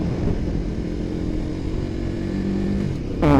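A Royal Enfield Himalayan 450 adventure motorcycle accelerates hard in first gear, its engine a loud, close, steady drone that rises in pitch near the end, with no talking.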